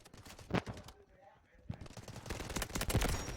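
Rapid automatic gunfire from an SMG-45 submachine gun in the mobile shooter game Delta Force Mobile, with sharp bursts and rattling volleys that build toward a dense, loud stretch at the end after a brief lull.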